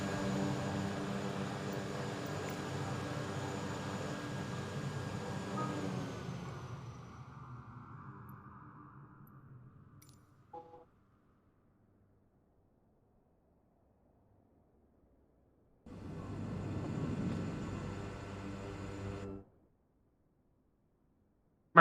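Steady jet engine drone from an airplane in a flight video game winds down as the plane lands, fades, then a brief second burst of engine noise returns before silence.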